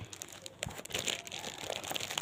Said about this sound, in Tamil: அதில் உள்ள கவர் இப்போ தான் உடைக்கிறேன்